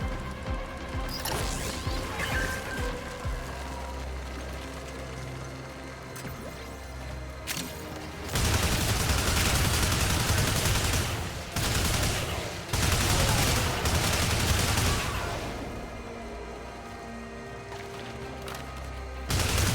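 Video game gunfire in Killer is Dead erupts in loud sustained bursts of dense rapid shots, separated by calmer stretches of mechanical sounds, with a final burst at the end.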